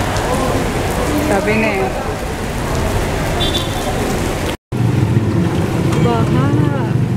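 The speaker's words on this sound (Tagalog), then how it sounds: "Grabe siguro ano, lakas ng ulan." Heavy downpour in Manila drums steadily and loudly, heard from inside a taxi as a dense, continuous wash of rain, with people talking over it.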